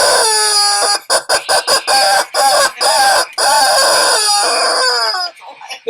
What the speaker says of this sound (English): a rooster alert.